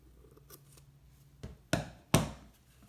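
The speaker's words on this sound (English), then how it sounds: "And I'll cut this loop to get the second." Scissors snip through a yarn loop during a mini tapestry craft, three quick cuts close by, the last two sharpest and loudest, against a quiet room.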